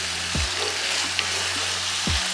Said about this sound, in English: I'm gonna let that cook into the jerk ground beef.